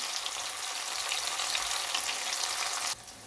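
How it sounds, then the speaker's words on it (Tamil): Soya paneer (tofu) frying in a pan, a steady dense sizzle running close and loud for about three seconds before dropping suddenly to a quieter crackle at the end. "இப்போ பார்த்தீங்கன்னா நான் எல்லாத்தையும் பிரட்டி விட்டுட்டேன்"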